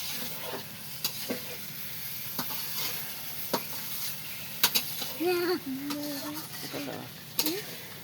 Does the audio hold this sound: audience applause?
no